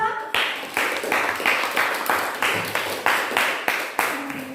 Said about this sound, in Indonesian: Tepuk tangan untuk kelompok 1 dan 2.